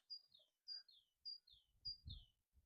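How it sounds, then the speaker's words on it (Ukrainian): Small birds chirp in repeated short bright phrases, clear and fairly close, with a low rumble of activity underneath. "Пташечки співають."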